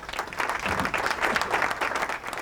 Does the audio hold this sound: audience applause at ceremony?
yes